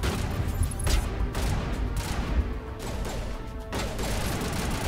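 Gunfire from the Mass Effect video game plays as a dense, continuous barrage of shots and impacts, loud and busy throughout, with no clear gaps between bursts.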